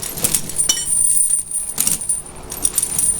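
Snow tire chain on a Unimog 1300L being pulled tight, giving loose metallic jangles and clinks in several bursts at close range, with no talk.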